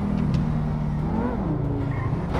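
An SSC Tuatara hypercar in GTA V: its engine revs up, eases off, then climbs again in a loud, wavering whine close by.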